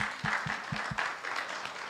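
An audience at an induction service for a Pathfinder club gives a short round of applause, heard at moderate distance and fairly soft, with a few low thumps mixed in and no talking.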